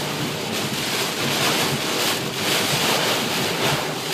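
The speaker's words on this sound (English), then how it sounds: "Still wind gusts up to 50 or 60." Strong wind gusts of about 50 to 60 mph blow during a heavy rain storm, heard on the road behind a truck. They make a steady, loud roar of rushing air that swells and eases in waves, with no voices.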